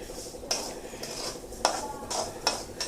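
A utensil stirs lentils dry-roasting in a pan, giving repeated scraping clinks against the metal at a steady rhythm of about one every second, close and clear with no talk.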